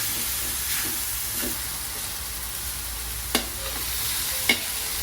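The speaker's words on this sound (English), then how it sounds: "So listen for that sizzle. That tells you that the wok is at about the right temperature." Steady frying hiss of food in a hot wok, continuous and close, with a couple of sharp metallic clinks from a utensil.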